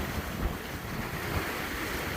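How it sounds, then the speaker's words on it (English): Steady wind of about 13 mph blowing across the beam of a sailboat moving at 7 to 8 knots, roaring constantly against the microphone with a low rumble of water and hull beneath it. "Got about a 13-mile-an-hour wind on the beam."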